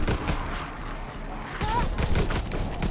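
Rapid gunfire crackles through a Call of Duty WW2 Nazi Zombies match, a dense, steady barrage of shots layered with game noise and occasional voices, loud and continuous throughout.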